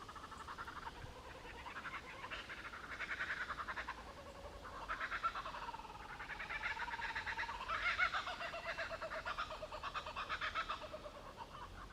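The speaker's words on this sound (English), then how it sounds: "That was a kookaburra, an Australian bird." A kookaburra's loud cackling, laughing call rises and falls in repeated bursts, fairly distant, over a quiet outdoor background in Sydney.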